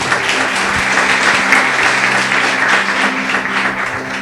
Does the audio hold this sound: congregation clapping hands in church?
yes